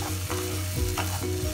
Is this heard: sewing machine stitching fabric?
no